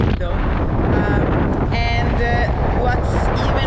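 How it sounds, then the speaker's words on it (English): Strong wind buffets the microphone in a loud, continuous roar, with a few faint voices breaking through the rushing noise. "it's so windy"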